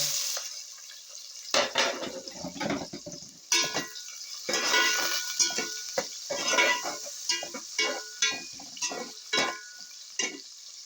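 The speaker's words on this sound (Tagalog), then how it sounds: "Now let's start saute first onion." Onion sautéing in a pan for macaroni curry: repeated scraping and clattering of a utensil against the pan comes in irregular strokes over a soft sizzle, close and fairly quiet, with no talking.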